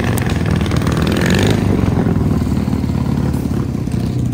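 A motorcycle engine rumbles and idles loudly and close by at a classic car show, a steady low throb with a slight rise early on, alone without talk.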